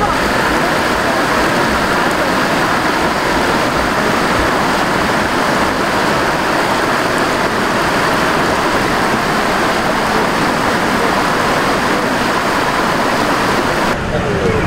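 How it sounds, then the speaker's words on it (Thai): A waterfall at a scenic spot in Si Nakhon district, Thailand, gives a steady, loud, broadband rushing roar that runs unbroken through the whole stretch. "เป็นน้ำตกอันสวยงามตรงนี้"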